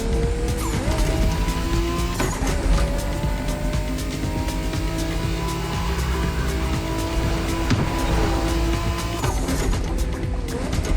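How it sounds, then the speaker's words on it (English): Race car engine in The Crew Motorfest heard from the cockpit view, a loud continuous drone with shifting harmonic tones as it revs through gears, tire squeal layered in, steady throughout with no talking. "Let's see how it sounds from the inside"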